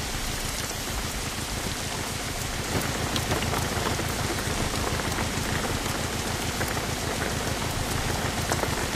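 Heavy thunderstorm rain in the driving game Jalopy, a dense, steady downpour drumming on the surface throughout, loud and unbroken.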